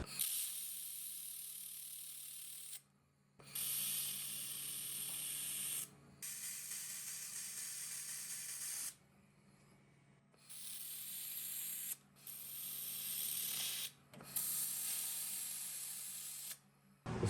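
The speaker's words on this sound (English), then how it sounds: "I need to weld these 3 together" Arc welding joins three metal frame pieces for a DIY CO2 laser cutting and engraving machine. Close, harsh, steady hissing bursts of a few seconds each are separated by short pauses, with no talking.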